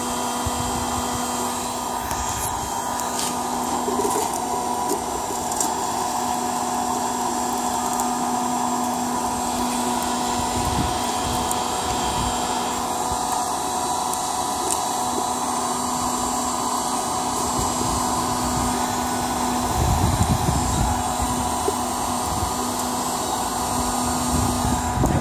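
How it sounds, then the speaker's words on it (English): A heat gun blows steadily while melting pine pitch into a liquid for glue, producing a constant loud whirring roar with a fixed tonal hum that holds for the whole stretch and has no speech over it. "now I'm using the heat gun to get the pitch to a liquid state"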